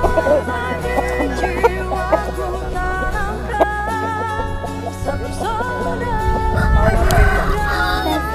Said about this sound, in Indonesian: Ini mau tes jago, Mas.